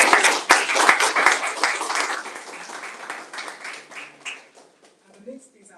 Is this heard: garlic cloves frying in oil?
no